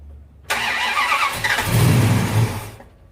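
A purple 1971 Dodge Charger R/T engine cranks and fires, a sudden loud burst settling into a rough, rumbling idle for about two seconds before cutting off.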